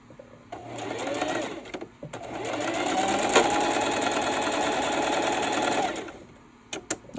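A sewing machine runs a seam on a Dollar Tree bunny bag, starting with a short whir and then a longer steady run of fast needle clatter, close up, with brief handling clicks before and after.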